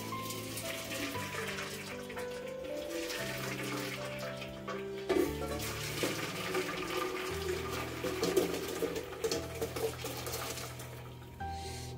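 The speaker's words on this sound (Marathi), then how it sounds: "नंतर याच्यामध्ये थोडं थंड पाणी घालायचं" Cooked macaroni is drained and cold water is poured over it, a running, splashing water sound beneath continuous background music.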